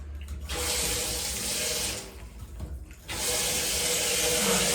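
Water runs steadily from a hotel shower in two loud bursts, cutting off briefly around the two- and three-second marks before gushing again, with no talking.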